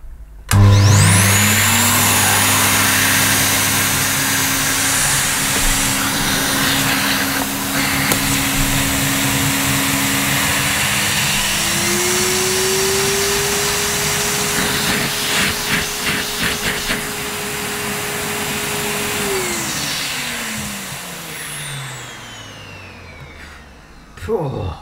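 A 1997 Dirt Devil 1100 watt cylinder vacuum cleaner starts up and runs, a loud close airy roar with a rising whine that holds steady for around twenty seconds before spinning down.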